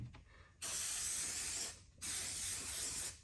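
Two long bursts of aerosol spray hiss loudly up close, separated by a brief pause.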